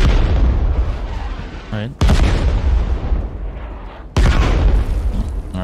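Mortar explosions in the Caliber video game land as loud, sudden booms, three heavy blasts spaced about two seconds apart, each with a rumbling tail. Someone speaks briefly between them.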